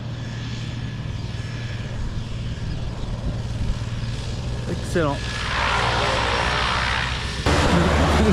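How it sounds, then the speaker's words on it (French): Small Cessna propeller plane, heard from inside the cabin as a steady loud engine drone and hum that swells toward the end, with people talking over it. "Voilà, on va voler là-dedans, un petit Cessna."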